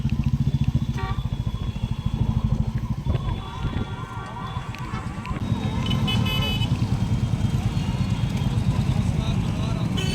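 Motorbikes and bicycles move along a crowded road toward the Prayagraj Maha Kumbh, engines droning and revving nearby in a continuous busy rumble with crowd noise and voices mixed in.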